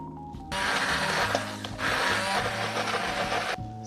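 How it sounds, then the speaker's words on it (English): A handheld mini blender whirs loudly through egg yolks, sugar and cornstarch in two steady bursts of motor noise separated by a brief dip, then cuts off. "we mix everything with a mini pimer"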